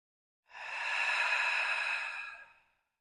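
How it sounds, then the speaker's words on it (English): A single slow, airy exhale during a pause in a hatha yoga practice, rising gently, holding for about two seconds and fading out, close and soft against silence. "Pause for a few breaths."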